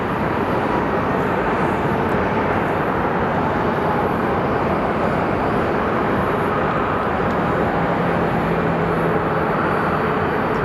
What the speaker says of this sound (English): we have our Southwest flight from Denver coming in